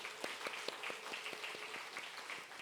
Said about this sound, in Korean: 잠깐 일어나서 인사할 때 우리 큰 박수로 격려하기를 바랍니다.